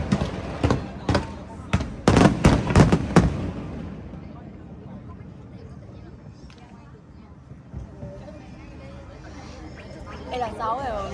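A rapid string of loud firework explosions bursts over Da Nang during the first three seconds. The booms then fade into a quieter stretch of crowd chatter and nearby voices.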